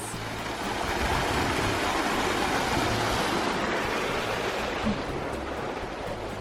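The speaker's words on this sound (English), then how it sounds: "there is a mini waterfall, and obviously you will need to pee if you heard this" Rushing water from a small waterfall along an outdoor trail, a steady broadband roar that stays even and fairly close throughout with no voices.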